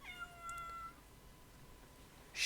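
A house cat meows in a few short, clear, tonal calls close by at low volume, then goes quiet, with a brief rustle at the very end.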